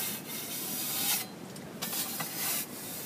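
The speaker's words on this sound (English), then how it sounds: "If you have an edge that's too much to sand, just scrape it a little bit." A blade scrapes along the raised edge of a drywall patch, giving soft, fairly quiet rasping strokes at close range, several short passes in a row with no voices.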